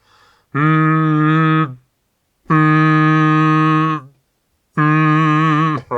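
A voice makes three sustained nasal hums, each about a second or more long, separated by short silences; the last hum cuts off abruptly.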